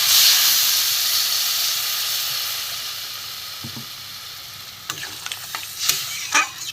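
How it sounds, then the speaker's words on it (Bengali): Sizzling crab curry with potatoes hissing loudly as a little water is poured in, the steam hiss fading gradually, then scraping spoon stirs in the pan near the end. "আমি এতে একটু জল দিয়ে দেবো অল্প করে।"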